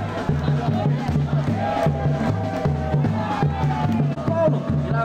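Football supporters of Favela da 13 and Complexo São Bernardo roar and chant at a favela tournament semifinal, a dense, steady crowd din with rhythmic shouting and a voice calling over it.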